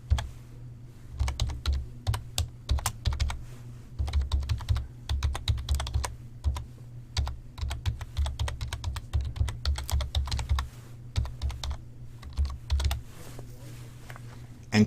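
A computer keyboard typing out a website address in a browser's site settings: steady, rapid key clicks running for the whole stretch, close and clear with no talking.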